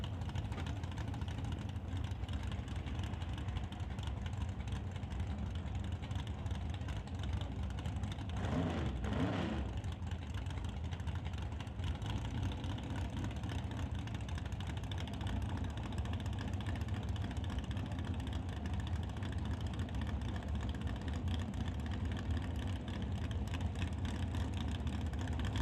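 Engine of a 1967 Camaro drag race car at a drag strip event, a steady loud rumbling drone held throughout with a brief surge near the middle, no talk.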